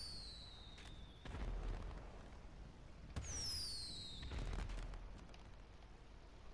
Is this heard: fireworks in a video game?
yes